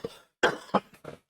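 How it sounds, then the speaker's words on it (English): A person coughs several times in quick succession, three or four sharp, close bursts with brief pauses between them, hoarse and chesty. "Man, this cough is kicking my butt."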